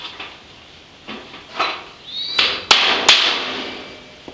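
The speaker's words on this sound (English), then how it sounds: "I'm just whacking them with a hammer and a nail to get a hole" Several sharp knocks and taps of a hammer driving a nail through hard hollow plastic, irregularly spaced, with two louder bright strikes near the end.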